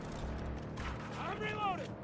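Shotgun blasts in Battlefield 2042 ring out amid battlefield noise, a few sharp reports mixed under a player talking.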